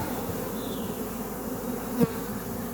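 Honeybees drone in a steady low buzz while a hive colony is opened for checking, the hum close and continuous, with one brief knock partway through and no talk.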